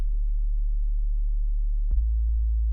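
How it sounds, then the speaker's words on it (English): A deep, pure sub bass tone from a Serum synth with its sub oscillator engaged, a smooth sustained low hum that retriggers once near the end with a brief click. "we have a sub bass from Serum. It just activated the sub oscillator there."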